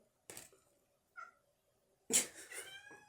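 A cat gives a couple of short, clear meows at close range, with a quieter chirp between them and a longer, louder meow near the end in an otherwise quiet room.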